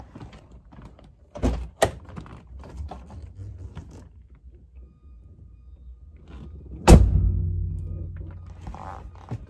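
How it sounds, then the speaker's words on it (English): Rustling and small mechanical clicks lead up to two sharp knocks, then the door of a Mercedes 560SL (R107) slams with a deep, solid thunk that rumbles briefly afterward. "Whenever I shut the doors on this vehicle"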